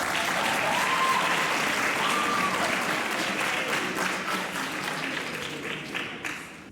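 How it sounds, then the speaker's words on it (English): A church audience gives a warm, sustained round of applause for a young participant named Lesedi, dense clapping filling the room and slowly tapering toward the end. "Let's give Lesedi a round of applause."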